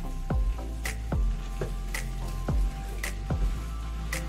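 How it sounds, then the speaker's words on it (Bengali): Tomato pieces go into a pan of Bengali katla fish curry and are stirred, with a faint sizzle under a low hum and a handful of sharp spatula knocks and scrapes at irregular intervals. "দিয়ে দেব কয়েক টুকরো টমেটো, ভালো করে নেড়ে দিচ্ছি।"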